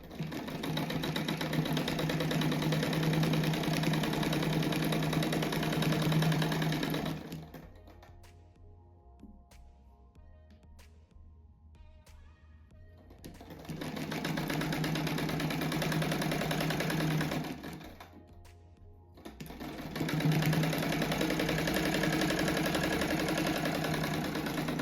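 Sewing machine stitching a rug, running in steady loud bursts of continuous whirring, with two quiet pauses between the stitching runs.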